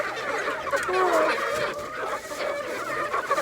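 Hens clucking close by, a steady stream of soft clucks and squawks over a busy outdoor background.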